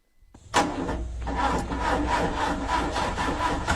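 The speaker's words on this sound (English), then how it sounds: "I try to start my car." A car engine cranks after a short silence, starting with a sharp onset and then a rough, grinding, rhythmic churn that continues steadily without catching.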